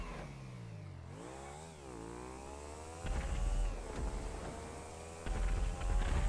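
A motorcycle engine in the video game GTA V drones and shifts pitch as it revs and slows, with louder rough bursts partway through. No one speaks.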